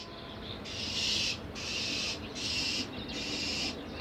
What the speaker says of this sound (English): She is one persistent bird.